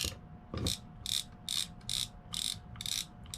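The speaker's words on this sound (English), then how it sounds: "then I'm going to tighten my drag up a little bit. That'll hold this spool from turning and backing off." Rear drag on a Shakespeare Sigma Supra 040 fishing reel being tightened, producing a series of about eight close, crisp ratcheting click bursts in a steady rhythm.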